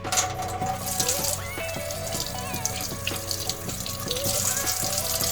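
Tap water running into a sink while makeup brushes are rinsed, a steady faucet stream broken by repeated splashy knocks and drips as the brushes are worked under it.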